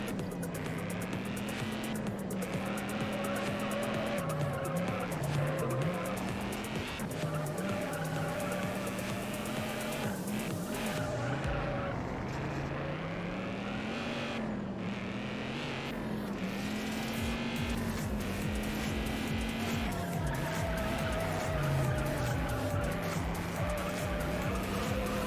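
A racing car engine in the video game Juiced, droning and shifting pitch continuously with rising and falling revs, joined by tire squeal and skidding, loud and close throughout.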